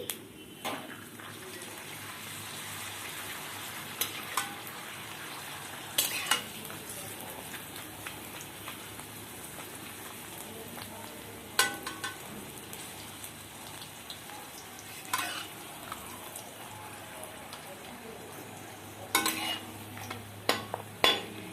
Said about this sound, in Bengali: গরম তেলে আমি পাঁপড় ভেজে নিচ্ছি।